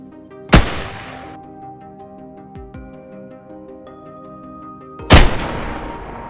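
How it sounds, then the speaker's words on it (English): Two loud gunshots ring out during a close-range wild boar encounter in woodland, each a sharp blast with a trailing echo, spaced several seconds apart, with quiet ringing in between. "One shot rang out, taking the beast down before it could cause any damage"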